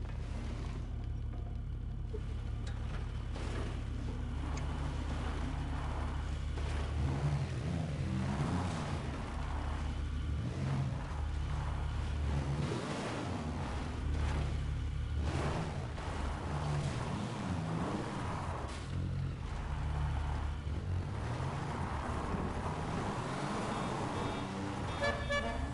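Vehicle engine drone from a car driven in GTA 5, rumbling steadily and fairly loud across the whole stretch, with shifting engine tones and no talking.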